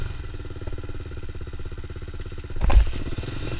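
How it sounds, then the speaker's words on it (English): A motorcycle engine already running with a rapid, steady idle putter, then a brief louder burst near the end as the bike is started or revved. "Gotta start my bike."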